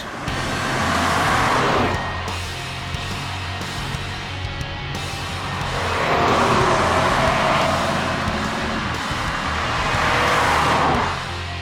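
A 2018 Kia Stinger GT is driven hard on a race track in India, its engine roar rising and falling through two long loud surges, close and continuous with no talk.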